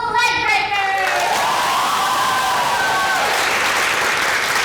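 An audience at a student improv comedy show bursts into loud applause with cheers and whoops, sustained clapping filling the room after the performance ends.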